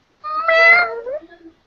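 A person mimics a cat, producing one loud, close, drawn-out meow that rises then falls, trailing off into a few softer wavering notes.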